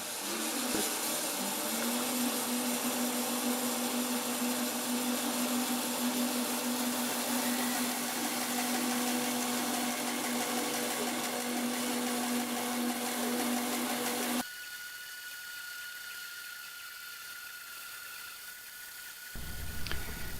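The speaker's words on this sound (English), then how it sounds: "let's get back over to that bandsaw, cut these pieces" A bandsaw cuts wood pieces for a twisted staved turning, a loud, steady motor whine with a constant hum running for about fourteen seconds before the tone shifts abruptly to a thinner, quieter whir near the end.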